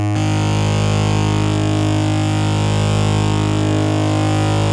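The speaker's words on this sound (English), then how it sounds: "So pre-distortion." A dense, harmonically rich tone run through the Spectrasonics Undercurrent distortion plugin with distortion placed before the EQ, sustained, loud and steady throughout with no talk.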